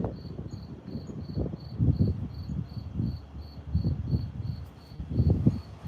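Crickets chirp in a steady, faint, evenly pulsed trill that runs continuously above low, muffled background rumbles and shuffling, with no voices.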